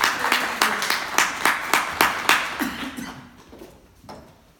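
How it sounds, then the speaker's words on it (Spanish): A lecture audience claps for a speaker taking the podium at a colloquium, a short burst of rhythmic clapping that fades out over a few seconds, with no speech. "Un aplauso para ella."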